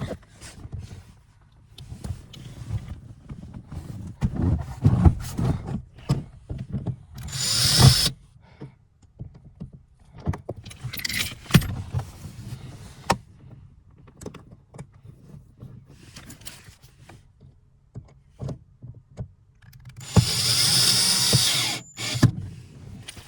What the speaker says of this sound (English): Now we're gonna put the 2 screws on the back side.